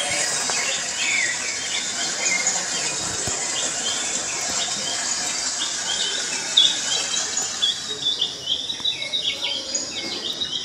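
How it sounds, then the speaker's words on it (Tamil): Recorded rainforest bird and animal calls playing in an exhibit at the National Museum of Natural History in Manila: layered chirps, trills and insect-like buzzing over a constant bed, growing busier and more rhythmic toward the end. "அதே மாதிரி குருவிகள், விலங்குகளுடைய ஒலிகள்லாம் கேட்குற மாதிரியும் இங்கே செய்திருக்காங்க."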